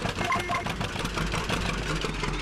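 A John Deere 620 tractor engine in Farming Simulator 17 idles with a steady, fairly quiet mid-low drone, heard alone with no talk.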